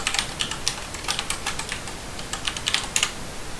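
Rapid, steady computer keyboard typing as commands are entered at a Db2 shell prompt on a CentOS 7 Linux machine, close and fairly loud clicks with brief pauses and no voices.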